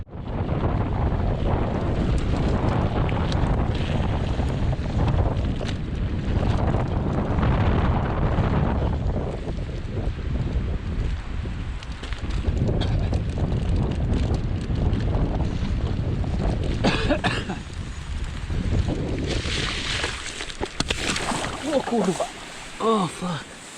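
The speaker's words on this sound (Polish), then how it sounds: "Chyba, no, że będę musiał ubrać, bo trochę wieje." Wind on a mountain bike trail along a ridge near Pilsko in the Beskid Żywiecki mountains buffets the microphone. A loud, steady roaring rumble continues throughout with gusty swells.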